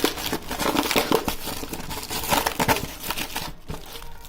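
A heavily taped toy box for Baiwei Bumblebee and Sentinel Prime figures being opened up close, with packaging and tape crinkling and crumpling in loud irregular bursts that thin out toward the end.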